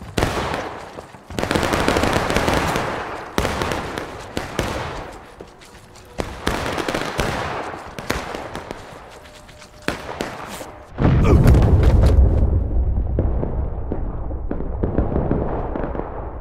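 Cannon blasts and rapid rifle fire in the Civil War video game War of Rights, with dense crackling volleys and sharp reports repeating through the battle, then a heavy close boom followed by rumbling.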